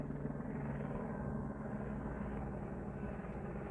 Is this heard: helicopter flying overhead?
yes